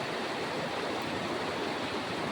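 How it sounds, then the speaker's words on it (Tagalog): Strong water of the Cayabo River in Tanay, Rizal, rushes in a dense, steady roar, close and continuous with no voices. "Malakas ang tubig, oh."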